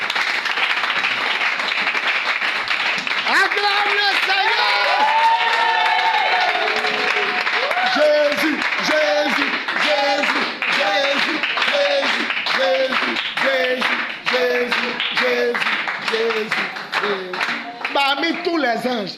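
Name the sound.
congregation applauding and acclaiming in church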